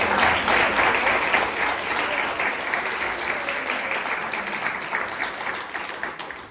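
A room of listeners gives Carmenza Moreno a round of applause, thick clapping that starts strong and gradually tapers off over several seconds.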